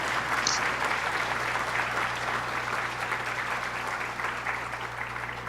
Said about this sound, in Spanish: pediría un fuerte aplauso para despedir al doctor Ángel Fidalgo Blanco